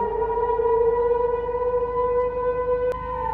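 A civil defense siren wails outdoors in Germany, a steady sustained tone holding loud and even throughout, with a brief sharp click near the end.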